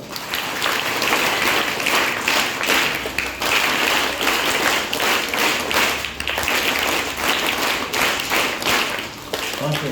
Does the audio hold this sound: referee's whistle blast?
no